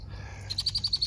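A female red-winged blackbird calls near her nest by a park lake, giving a rapid run of sharp, repeated chattering notes, clear and fairly close.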